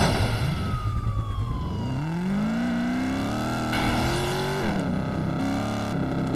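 A car in the mobile game Gangster Vegas drives loudly and continuously, its engine note climbing and shifting through gears, with a siren-like tone sliding underneath.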